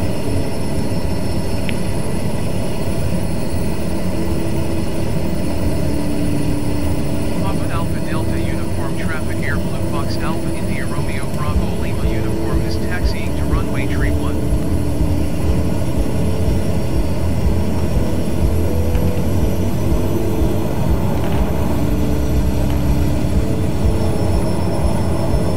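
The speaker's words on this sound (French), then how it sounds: "Donc là je décolle piste 31" Twin Otter propeller plane taking off from runway 31 in Alaska, a loud continuous engine drone heard from inside the aircraft throughout, with a brief faint squeaky chatter in the middle.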